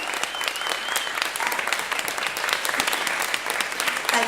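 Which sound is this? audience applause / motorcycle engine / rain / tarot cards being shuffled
audience applause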